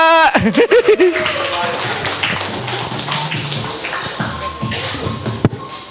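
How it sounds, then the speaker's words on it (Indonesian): A comedy roast crowd applauds to welcome a comedian after a host's brief spoken introduction. The clapping is close and busy, with scattered cheers and laughter mixed in, and holds steady to the end. "tepuk tangan buat Yosua"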